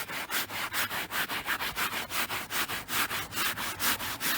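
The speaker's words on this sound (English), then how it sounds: "I let it sit for a while, I start scrubbing" A brush scrubs back and forth in quick, regular strokes on a surface while working on a 2004 Buick Rendezvous, a close, rhythmic rasping with about five strokes per second and no talking.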